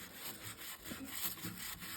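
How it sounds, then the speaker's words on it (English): A brush scrubs steadily on the white wall of a Harley tire, producing a close, continuous rough rasping with soft repeated strokes and no talking. "I'm not scrubbing it really hard."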